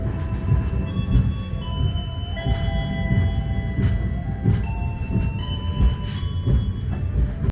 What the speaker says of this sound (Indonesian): Saat ini kereta Gumarang tiba di stasiun Pekalongan